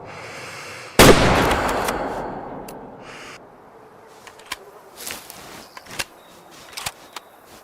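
A gunshot rings out in the hunting video game Way of the Hunter 2, a sharp loud crack with a decaying tail. Fainter pops, taps and thuds follow sparsely.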